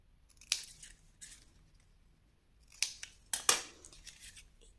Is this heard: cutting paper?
yes